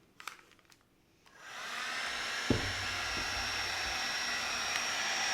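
A heat tool set to high heat and low airflow switches on after a few faint handling clicks and settles into a steady blowing whoosh, aimed at the frizzled ends of a synthetic wig.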